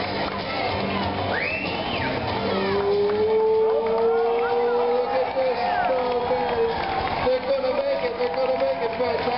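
A racing motorcycle's engine whines and rises in pitch during the final lap of a race, heard through crowd noise and lively commentary, moderately loud and drawn out as it passes.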